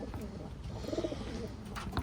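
A Taiwan pigeon coos softly nearby in a quiet indoor bird-keeping setting, a brief low murmuring call amid faint background noise.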